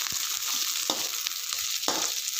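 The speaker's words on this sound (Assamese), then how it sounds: "আৰু এইখিনি অলপ সময় ভাজিম আমি" Steady sizzling of onions frying in hot oil, with occasional scrapes and taps of a spatula stirring in the pan.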